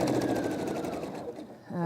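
A sewing machine stitching a quilt top runs with a fast, even mechanical chatter that slows briefly before picking up again, alongside a voice.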